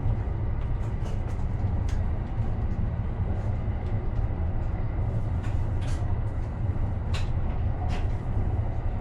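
A Japanese train heading to Uno Station rumbles steadily with a dense low roar, faint clicks and rattles over the rails, and no voices.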